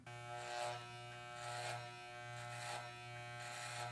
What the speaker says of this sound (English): Now I grab a set of clippers and I put the clippers at the longest cutting length with no guard on.